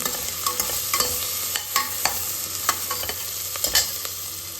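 Ground fish paste fries in oil with a constant bright sizzle, punctuated by regular clicks and scrapes of a spoon stirring against the pan, close and clear with no talking.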